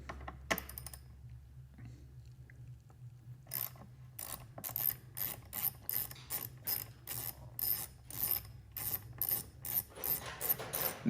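Hand ratchet backing out the gas cap bolts on a BMW R 1200 GS motorcycle, a close, crisp run of evenly spaced clicks that speeds into a steady rhythmic ratcheting over a faint low hum.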